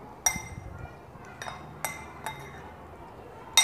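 A spoon clinks against a bowl while mixing guava chaat with red chili powder and lemon juice, several sharp separate taps spaced irregularly over a quiet background, close and distinct.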